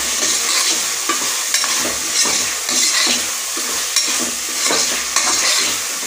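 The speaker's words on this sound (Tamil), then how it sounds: "ஃப்ரெண்ட்ஸ் இப்போ காய் வந்து வெந்துட்டுருக்குது" Tomato, carrot and capsicum fry in a pan with a steady broadband sizzle, while a utensil stirs and scrapes in irregular strokes close by, with no voices.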